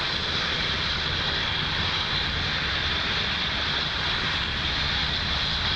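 A SpaceX Falcon 9 rocket (booster B1062) lifts off from Pad 40 at Cape Canaveral, carrying OneWeb satellites. A steady, dense roar fills the whole clip with a heavy, rumbling low end, with no voices.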